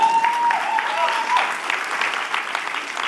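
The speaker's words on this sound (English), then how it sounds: "you can clap towards that" Audience applause during a talk at the XOXO Festival in 2016: moderate, continuous clapping mixed with talking, and a high whistle-like tone in the first second.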